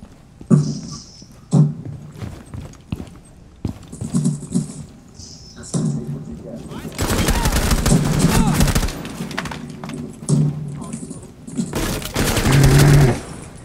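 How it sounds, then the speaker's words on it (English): A light machine gun rattles in sustained bursts from a window in Rainbow Six Siege, loud rapid fire dominating the later half after quieter scattered sounds and brief talk earlier. "There's this guy camping in the window with a fucking, like, a light machine gun."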